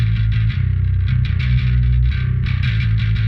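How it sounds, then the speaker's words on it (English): A reamped bass guitar plays a simple riff with distortion, fuzzy and dense, loud and steady with a repeating pulsing rhythm and no voices. "Let's start with the bass guitar on that. I think it's a great bass riff."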